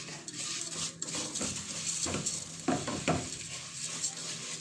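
Vermicelli is stirred into melted ghee in a pan for sweet milk vermicelli, with scraping spoon-on-pan clatter and soft sizzling, a few sharper knocks near the middle, close and moderately loud.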